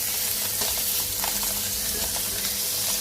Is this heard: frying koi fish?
yes